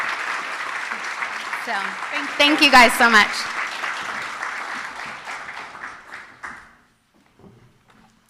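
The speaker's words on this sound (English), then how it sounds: "Give her a round of applause for putting on such a beautiful event." Audience applause fills a hall at a peace builder awards ceremony, a steady dense clapping that swells briefly, runs under a speaker's closing thanks, then fades out near the end.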